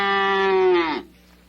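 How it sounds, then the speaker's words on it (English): A single drawn-out cow moo, rich and harmonic, from a 1970 Sesame Street song about farm animals. It holds steady for about a second, then cuts off sharply, leaving only a quiet background hum. "cow."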